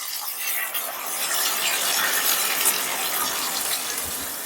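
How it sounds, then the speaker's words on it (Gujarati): Dal streams into a pot after red chillies, curry leaves and fenugreek seeds have gone in, a continuous close rushing pour that holds steady throughout and ends with a small knock. "હવે આપણે દાળ નાખી દઈશું"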